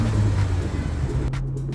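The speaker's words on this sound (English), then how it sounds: "And that's the exhaust sound. There's no real sound to it." A 2024 Omoda C5 GT accelerating, with a low, steady engine rumble and a droning exhaust note, fairly loud and continuous, without much bark or pop.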